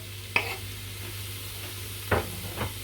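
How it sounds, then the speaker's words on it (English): Chopped garlic frying in a soup pot for a carrot and potato vegetable soup, a steady low sizzle running throughout, broken by a sharp stir or scrape near the start and two more clanks of a utensil against the pot later. "And we'll cook off the garlic until it gives off its smell."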